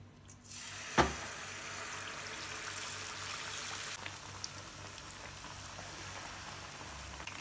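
Pazham pori, banana fritters dipped in batter, frying in hot oil: a steady close crackling sizzle runs throughout, with a sharp splash-like burst near the start as the pieces go in.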